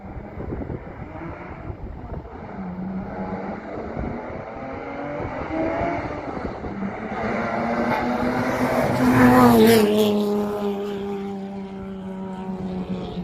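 A twin-turbo Nissan 350Z Nismo revs up as it approaches and passes, rising to a loud roar before fading, short-shifted below full throttle, with wind buffeting the microphone.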